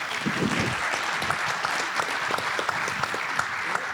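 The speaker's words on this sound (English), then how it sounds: "Please, a round of applause for our esteemed panelists." A panel audience at a Guam defense forum claps steadily, a dense, fairly loud wash of applause filling the whole stretch with no talk.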